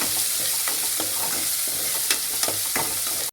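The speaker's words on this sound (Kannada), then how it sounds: "1 ಈರುಳ್ಳಿ ಹಾಕಿದ್ದೀನಿ. ಸ್ವಲ್ಪ ಸೌಟಲ್ಲಿ ತಿರುಗಿಸಿ" Onion frying in a pan for bendekayi palya, stirred with a ladle: a steady close sizzle with repeated scraping strokes of the ladle against the pan, all without any talking.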